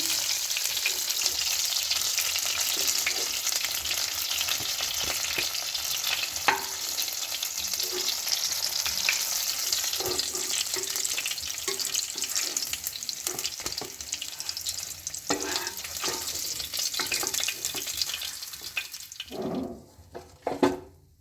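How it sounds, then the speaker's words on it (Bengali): Bhetki fish pieces frying in hot oil in a kitchen, a steady loud sizzle running the whole time with small crackles and a few clinks near the end, when the sizzling briefly drops away. "মাছগুলো ভাজা হয়ে গিয়েছে, দেখুন কি সুন্দরভাবে ভেজে নিয়েছি"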